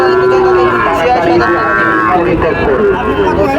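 Bahama cattle at the Panchbibi cattle market low loudly and close, a sustained, drawn-out moo over a busy background of voices and market noise.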